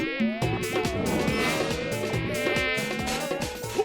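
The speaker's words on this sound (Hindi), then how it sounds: "ओफो, फिर से मच्छर।" A cartoon mosquito buzzes continuously with a bright, whining drone that wavers in pitch, loud and close throughout, backed by busy animated-show sound effects and no speech.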